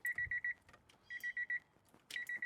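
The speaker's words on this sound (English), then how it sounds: "it's got the beep beep like you're an industrial truck backing up" Repeating electronic reverse-warning beeps from a 1993 Toyota Land Cruiser HZJ77 in steady bursts of four or five, clear and fairly close, with brief gaps and a few soft clicks between sets.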